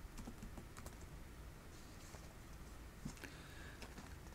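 Quiet clicking of keys on a computer keyboard as a short search term is typed, light irregular taps close by with faint background noise and no talk.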